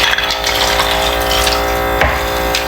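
Cold drinking water pours steadily over soaking parsley leaves for a salad rinse, a loud continuous rushing stream with a faint mechanical hum underneath and no speech.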